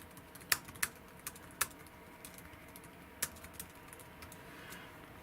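Typing on an Acer netbook keyboard: sparse, irregular clicks of single keys close by, faint and unhurried against a soft background hiss, with no one talking.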